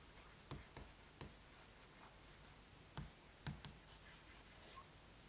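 Chalk or marker writing on a board during a lecture on turbulent kinetic energy equations, a series of faint, scattered taps and short strokes in a quiet room.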